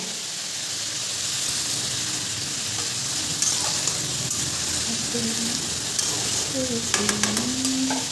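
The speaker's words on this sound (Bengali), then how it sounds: "তেলটা দেওয়ার সাথে সাথে দেখো সবজিটাও দিয়ে দিচ্ছি" Vegetables frying in hot oil and being stirred in a home kitchen, with a steady close sizzle and hiss throughout and light scraping clinks of the spoon toward the end, no talking.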